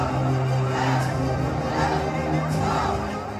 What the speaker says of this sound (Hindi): खाद के लिए परेशान किसानों की ऐसी भीड़ उमड़ी मानो चुनावी रैली होने वाली हो